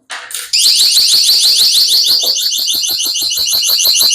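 NEXTORCH ND30 electronic flashbang running a continuous burst mode, emitting a very loud, piercing, rapidly warbling electronic alarm tone that starts abruptly and holds steadily, close and alone.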